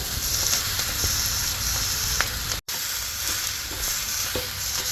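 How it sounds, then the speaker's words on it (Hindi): Mashed potato filling for stuffed chilli bhajji is stirred in a pan. A steady frying sizzle runs throughout, with faint stirring scrapes and a brief dropout midway. "बस ये मैश किए हुए आलू मिलाएंगे इसके अंदर"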